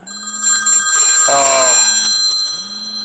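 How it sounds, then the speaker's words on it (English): A telephone rings with a steady electronic trill, loud and close, repeating in short bursts with a low hum underneath. "Hold on a second, I'm getting a phone call."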